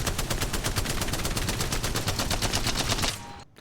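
A Spitfire light machine gun fires in Apex Legends, a loud, rapid, unbroken stream of gunshots in fast rhythm, stopping abruptly near the end.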